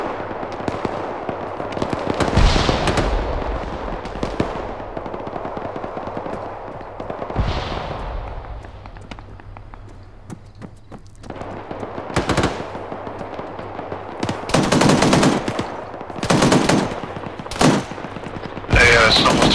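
Machine gun fire in the military video game ArmA 3 rattles in repeated bursts, some distant and muffled, others loud and close, spread across the stretch with intermittent gaps.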